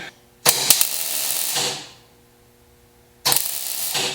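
A MIG welder lays beads on a car firewall with a new ground clamp, wire speed set at 38: two loud bursts of crackling, buzzing arc, each lasting about a second or more, separated by a quiet pause.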